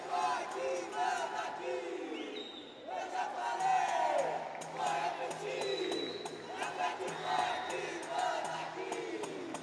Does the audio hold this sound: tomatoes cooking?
no